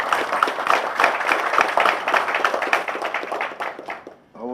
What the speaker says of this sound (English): His Excellency deserves a better round of applause for this